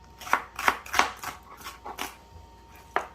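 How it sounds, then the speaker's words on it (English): A medium onion is sliced into shreds with a knife on a board, giving a steady run of crisp, close chopping thuds that pause briefly before a final cut. "And I'm just cutting it up in shreds."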